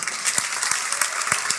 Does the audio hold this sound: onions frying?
no